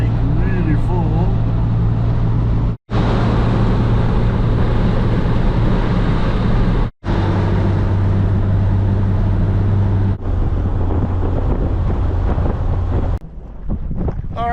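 Steady road and wind roar inside a car cruising along Highway 395 in Nevada, a constant loud drone with a low engine hum and two brief dropouts.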